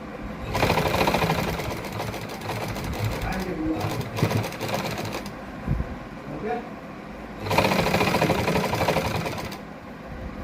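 A sewing machine stitches pearl lace onto folded fabric with a single-needle seam, running in fast whirring bursts with short pauses between, close and clear, with a voice talking over it.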